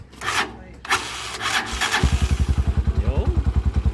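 A Suzuki TMX125 Alpha motorcycle fitted with a 200cc conversion starts after a couple of rubbing, scraping bursts, then settles into a steady, loud, rapid single-cylinder putter heard up close.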